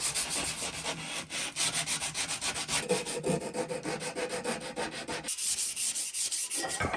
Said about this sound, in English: a wee round over on each corner, just do it with the sandpaper